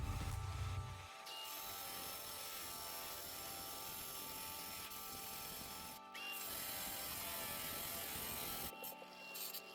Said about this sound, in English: We're going to go ahead and use this diamond cutoff wheel